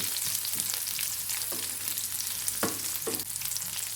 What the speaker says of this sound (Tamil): பூண்டும் சின்ன வெங்காயமும் கொஞ்சம் நேரம் வதங்கட்டும்.